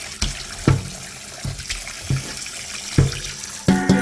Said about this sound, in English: So I'm just passing them back in some fresh water